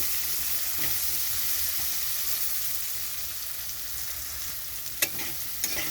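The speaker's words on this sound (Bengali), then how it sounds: "এখানে আলুটা ভেজে নিতে হবে একটু ভালো করে।" Potatoes frying in oil in a pan, a steady close sizzle lasting throughout, with two sharp spatter pops near the end and no talk over it.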